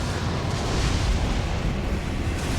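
An explosion in the video game Nightreign: a loud, sustained roaring rumble with heavy low-end that holds steady for the whole stretch without fading, and no talking.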